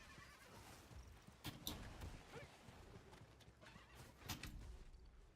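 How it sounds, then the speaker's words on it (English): A horse in Diablo IV whinnies and clip-clops as a rider mounts it, with hoofbeats and a couple of louder neigh bursts mixed over steady game ambience. "it was just me getting on my horse."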